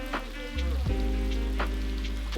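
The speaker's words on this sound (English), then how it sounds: "When the rain showed no signs of letting up" Heavy rain pours in a loud, steady rush in Gjirokaster, Albania, heard from under a small overhang, with a few sharper spatters and drips landing nearby as water runs below.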